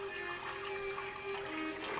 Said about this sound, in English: And now we just need some water